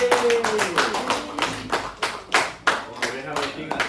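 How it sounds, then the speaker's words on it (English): Audience applause for a guest speaker at a corporate presentation: a burst of clapping opens under a sustained voice, then fades into scattered, uneven claps and taps with distinct louder hits near the end. "let's give a big applause to Miss Malam"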